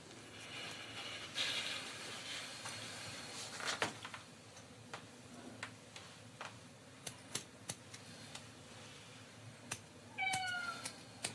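A cat meows several times indoors, faint and distant, in short separate calls spread across a quiet room with a few soft knocks, ending in a clearer drawn-out meow.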